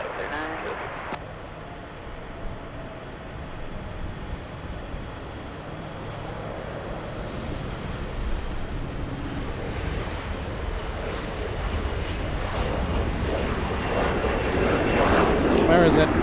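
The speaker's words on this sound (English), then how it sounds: "And let's go for the takeoff. It's another one. Another E175." An Embraer E175 regional jet taking off from LAX, bound for Phoenix, its engine roar building steadily to a loud close pass, with wind buffeting the microphone and a voice talking over it.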